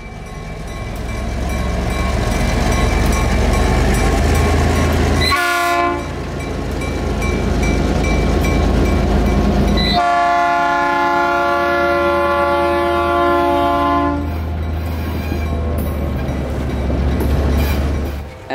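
An Amtrak 91 passenger train rolls past in Florida, a loud, near rumble with rail clatter, broken by two long horn blasts before the train noise fades slightly at the end.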